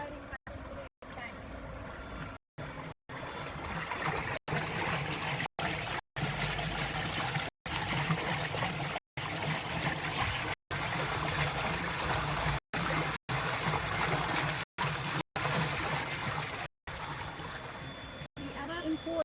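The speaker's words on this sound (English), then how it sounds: "the product is coming out of the tank, going through the pump, going through the emulsifier and recirculating back into the tank" A 250-litre IOPAK cooking system circulates product from its tank through a pump and emulsifier and back again, giving a steady rushing, watery churn with a constant machine hum that cuts out briefly at intervals.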